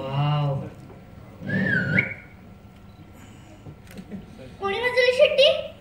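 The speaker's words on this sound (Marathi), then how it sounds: "कोणी वाजवली शिट्टी?" A whistle rises and sways in two loud bursts, one near the start and another toward the end, with a quieter stretch between them. It comes from the set of a Marathi comedy film, and voices talk around it.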